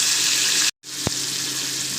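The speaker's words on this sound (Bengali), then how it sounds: "কড়া তেল দিয়ে আমি এটা দিয়ে দিলাম।" Fish fat frying in hot oil in a pan while cooking a Bengali fish curry with kochu and potato, a loud steady sizzle, briefly cut to silence, then resuming with a single sharp tap.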